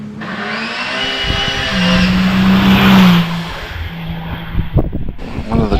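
A Triumph Special race car launches off the line at a historic hillclimb, its engine roaring loudly up through the revs and then dropping away, with a sharp clatter of sounds near the end.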